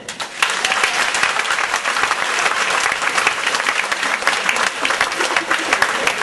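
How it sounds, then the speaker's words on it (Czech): Audience applause at a live show, sustained dense clapping from a sizeable crowd that starts abruptly and holds steady and loud throughout. "pokud souhlasíte s odpovědí číslo nebo písmeno A, zamilovaní, tleskejte teď"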